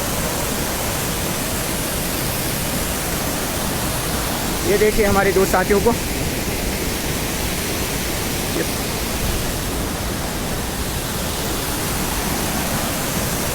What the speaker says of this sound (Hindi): बहुत तेज़ी से आता हुआ पानी